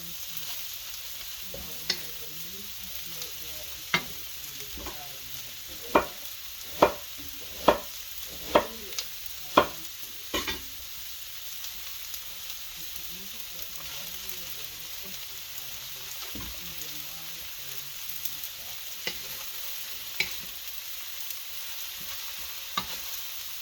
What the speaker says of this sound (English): Now the cabbage is going to cook down.